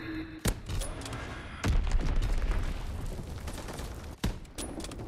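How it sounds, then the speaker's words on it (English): Enemy bombs detonate in a Call of Duty match, several sharp booming blasts spaced across a few seconds over a continuous rumble of gunfire and battle noise, loud and close, with no talk. "Enemy bomb incoming."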